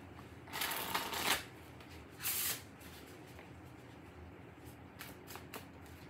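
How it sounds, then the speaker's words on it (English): Close, soft riffles of a card deck being shuffled in a few separate bursts, followed by lighter flicks and taps in a quiet room. "Let me get one good shuffle in."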